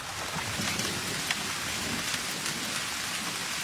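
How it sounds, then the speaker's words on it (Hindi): Steady rain falls, a soft continuous hiss of drops striking surfaces with no other sounds. "मैं इस बारिश का भरपूर फायदा उठाना चाहता हूं।"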